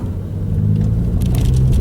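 Steady low engine rumble from a car with a manual 6-speed gearbox pulling in second gear, loud and continuous with no talk.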